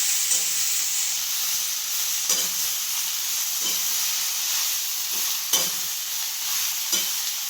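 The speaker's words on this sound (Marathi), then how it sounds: "आणि याला परतून घ्यायचं पूर्ण." A nutritious vegetable dish is stir-fried in a pan, a continuous close frying hiss broken by regular scraping and stirring knocks about every second, without talk.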